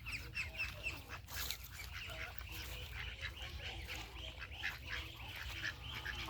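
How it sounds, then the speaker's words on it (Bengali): Chinese duck ducklings quack and call repeatedly on a duck farm, a busy, faint chorus of overlapping quacks with a voice speaking softly underneath. "ফারেন এগ্রোর চীনা হাঁসের বাচ্চা"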